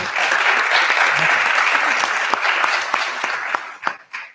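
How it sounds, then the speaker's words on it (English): A roomful of people applauds the board of education at a meeting, dense steady clapping that holds strong for several seconds before thinning into a few isolated final claps. "So how about a nice round of applause for our Board of Education?"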